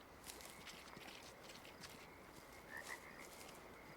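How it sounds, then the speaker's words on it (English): A frog croaks faintly in the distance in the Way Of The Hunter hunting game, a couple of short soft calls over a quiet, airy outdoor ambience. "That's a frog."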